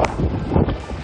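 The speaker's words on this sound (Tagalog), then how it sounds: "Sa lakas ng ulan, zero visibility ang paligid." Typhoon wind roars and buffets the microphone in a dense, steady rush, with a broad hiss of driving heavy rain throughout, in Basco, Batanes.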